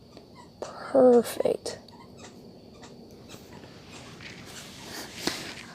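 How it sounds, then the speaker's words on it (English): Dogs off to one side squeak a toy in a brief, sharp cluster of high squeals, followed by faint shuffling and sniffing, while someone talks quietly nearby. "My dogs are over to the side. They got their squeaker toy going."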